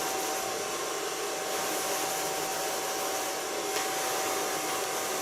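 Hair dryer blowing steadily at close range while polishing the ends of a pixie bob cut, a continuous broadband whoosh with a faint motor whine, no talking.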